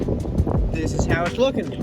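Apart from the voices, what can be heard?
wind blowing outdoors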